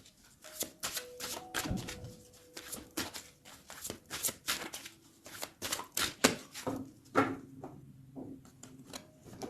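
Tarot cards are cut and shuffled by hand in a quiet room, giving rapid, close, papery riffles and taps in irregular bursts with short pauses between them.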